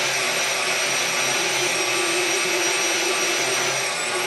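KitchenAid stand mixer motor whirring steadily while held under drag, a loud, even hum with a high whine that holds its pitch across the whole stretch, no voices.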